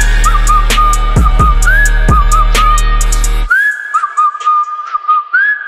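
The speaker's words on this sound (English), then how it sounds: "Whistle it, yeah." Someone whistles a melodic tune loud and close, over a heavy bass beat with sharp percussive hits at a freestyle battle event, then the beat cuts out and the whistling continues alone with a rising glide.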